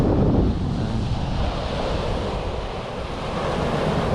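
Arctic Ocean surf washing steadily onto the shore, a dense continuous roar of breaking waves mixed with strong wind buffeting the microphone, with no voices.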